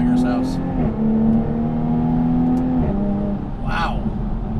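Jaguar F-Type V6S coupe driven fast, its engine a steady loud drone that holds one pitch, dips as it shifts gear and climbs again. A voice speaks over it now and then.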